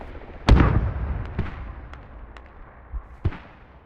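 Mortar fire in the video game Squad, one loud booming impact followed by several fainter distant thumps and cracks spread over a few seconds.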